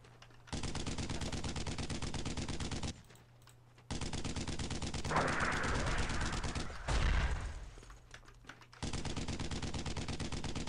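Sustained rapid machine-gun fire rattles in long bursts during a Brothers in Arms: Road to Hill 30 battle, loud and continuous with brief pauses between volleys and a few heavier blasts mixed in.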